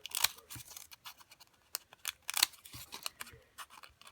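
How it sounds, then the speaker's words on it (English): Fringe scissors snip through paper cupcake liners in a quick run of crisp, close cuts, spaced unevenly with short pauses between them, fairly quiet with no talking. "Let's take a pair of scissors. In my case, I'm going to use the Fringe scissors"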